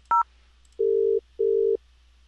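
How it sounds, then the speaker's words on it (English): Telephone dialing an extension on a 3CX phone system: one short two-tone keypad beep followed by two longer, steady tones, clear and isolated with a quiet gap between each. "So I'll dial extension 100."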